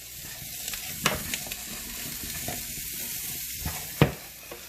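Potatoes and onions fry in a pan with a steady sizzle, while a few scraping knocks from stirring break through the hiss.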